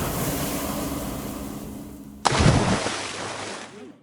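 A golden rose drops two feet into ice-cold water with a sudden loud splash, then a churning wash of water that slowly fades.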